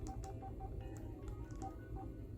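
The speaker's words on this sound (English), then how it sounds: "you press the middle button, scroll down to settings" Buttons on a Kyocera KYF31 flip phone are pressed in a quick series of short electronic beeps, several evenly spaced, heard close up over a steady low background hum.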